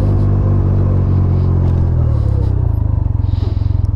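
A 2021 Can-Am Ryker 900 three-wheeled motorcycle rumbles loudly up close while riding, its engine throbbing in a deep steady drone that turns into a pulsing beat toward the end.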